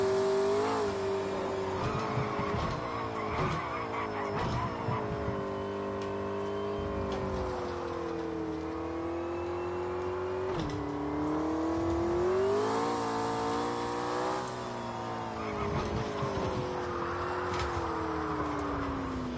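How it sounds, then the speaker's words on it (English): A racing game car held at full throttle, its engine droning loud and continuous, the pitch climbing and falling with gear shifts and corners for the whole stretch, with no talk over it. "There we go, full throttle."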